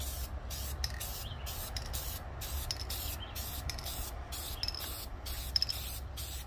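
An aerosol can sprays coating onto manifold studs in repeated short bursts separated by brief pauses, a steady near hiss with a low background hum and no talking.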